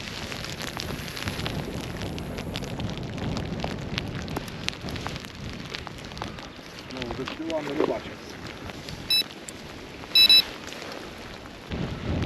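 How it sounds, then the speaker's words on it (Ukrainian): Sleet and rain fall during a cold March fishing trip, a steady hiss of precipitation on the surface with wind noise and occasional louder bumps and rustles; someone speaks briefly under it. "Така сніжниця пішла."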